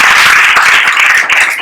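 Audience applause fills a church gathering, a dense, steady wash of many hands clapping loudly for about a second and a half, with no talking over it.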